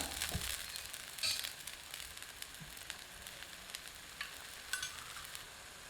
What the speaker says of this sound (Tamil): இப்போ சுற்றிலும் எண்ணெய் விட்டுக்கலாம்